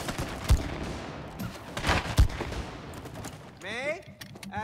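Bursts of gunfire ring out at a shooting range in the It Takes Two video game, with a few sharp, loud reports spaced irregularly and a whirring mechanical sweep near the end, under the players' talk.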